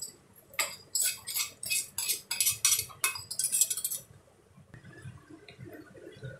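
Hot tempering with fried onions is poured into cooked lentil dal, making a burst of sharp crackling sizzles and clinks that last a few seconds and then fade to quiet kitchen noise, with no talking.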